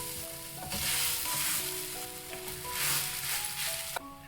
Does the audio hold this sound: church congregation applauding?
no